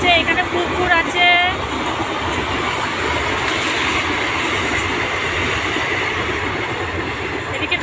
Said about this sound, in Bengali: ট্রেন যাচ্ছে, এখানে পুকুর আছে।